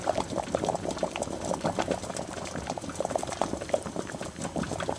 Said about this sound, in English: we remove the lid and allow the sauce to reduce gently for another half an hour